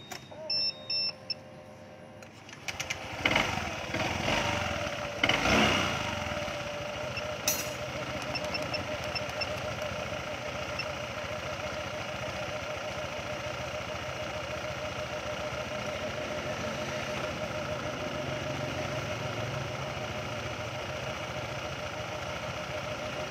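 After a few beeps and clunks, a Honda SH125i scooter engine starts and settles into a steady idle, droning evenly close by.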